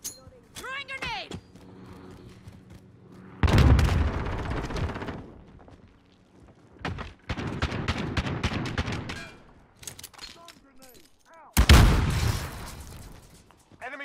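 In a video game, loud explosive blasts, including a thrown grenade going off, burst out amid bursts of gunfire, with quieter stretches and voices between the hits.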